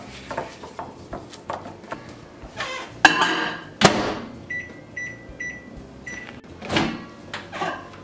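A microwave oven heats keto fat head pizza dough nearby, with sharp clicks and thumps, a door knock or two, then a short run of steady electronic beeps near the end, all without talk.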